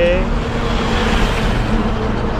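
Car driving along the Mumbai-Goa highway near Pali, a steady loud road and engine roar filling the whole stretch with constant low rumble and tyre noise.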